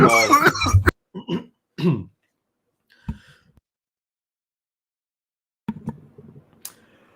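A person coughs in a few harsh bursts after vaping from a Storz & Bickel Plenty vaporizer, with throat clearing and breathy gasps between stretches of silence.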